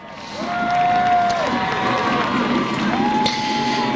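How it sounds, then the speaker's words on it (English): A crowd at Seekonk Speedway's 1999 weekly stock car racing cheers and applauds for a driver heading into the pit area. The noise is a steady, dense roar with whoops and whistling voices rising above it. "a big round of applause for Dick Houlihan"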